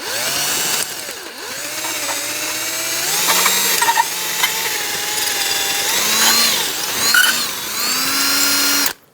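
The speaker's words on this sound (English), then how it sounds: "I drilled out the center a little bit." Drill boring into the centre of a rusted rear ABS sensor on a 2013-2020 Nissan Pathfinder, a loud steady whine rising and falling in pitch as the bit bites, running continuously before stopping abruptly.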